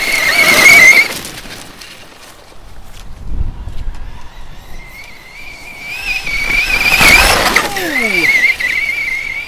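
A Traxxas Summit brushless two-speed RC truck runs at full throttle in a park, its motor giving a high whine that rises and falls as it drives back and forth, with sharp squealing bursts near the start and end.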